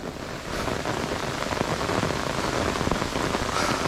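Steady rain falls outdoors on a hike near Upper Chindey Dadha, Sulikot, Dharan, a dense continuous patter of drops hitting surfaces close by with no voices.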